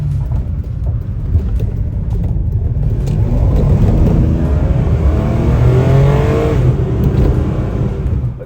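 Ferrari 456 engine revving hard under acceleration in traffic, a loud continuous roar with rising pitch sweeps as it climbs through the revs, close and steady throughout with no talk.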